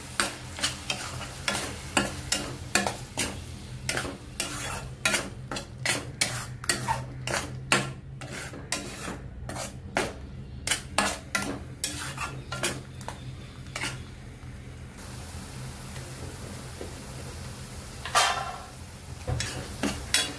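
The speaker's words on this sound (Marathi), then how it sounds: "यामध्ये आता टोमॅटोची पेस्ट आणि लसूण आणि अद्रक आहे, हे आता भाजून घेऊया छान तेलावरती" Tomato paste, garlic and ginger stir-fried in oil for a chole masala, with a steady sizzle under repeated scraping and clinking of a spoon against the pan, no talking.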